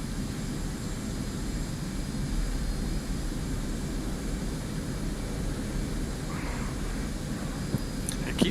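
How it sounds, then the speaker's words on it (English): A Spitfire's piston engine in the flight sim DCS World drones as a steady, broadband aircraft roar with a constant cockpit rumble throughout, plus a faint click near the end. "I do love flying the Spitfire around."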